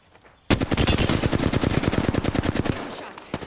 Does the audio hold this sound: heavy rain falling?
no